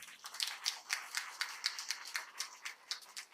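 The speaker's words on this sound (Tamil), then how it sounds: "இந்த பிள்ளைகள் 9 பேருக்கும் பெற்றோர்கள் பலமா கைத்தட்டு கொடுங்க" Faint, scattered hand clapping from a small group of parents, irregular and thin, with no voices over it.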